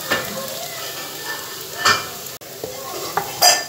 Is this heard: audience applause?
no